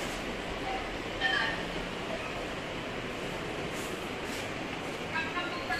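Metro train passing near a residential building, a steady low rumble of rolling railcars heard at a moderate distance, with faint high squeals and brief brighter accents, while speech can be heard faintly over it.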